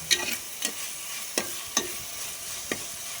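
Chicken cooking in a spicy pickle-chili gravy in a pan: a soft sizzle under a few sharp scraping stirs from a spoon, close up and with no talking.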